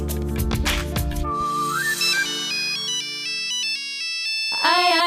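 A mobile phone rings with a melodic electronic ringtone for an incoming call, playing a loud, clear sequence of stepped synthetic notes with nothing else over it.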